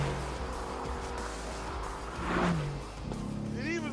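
A Mercedes-AMG GT R engine revs and roars, rising in pitch with a burst of tire noise midway, heard at moderate distance with a voice talking over it.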